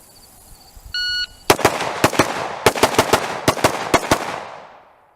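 A shot-timer beep precedes a rapid, loud string of about a dozen sharp rifle shots from an AXTS MI-T556 on a range, fired in quick pairs and bursts, with echoing decay trailing after the last shot.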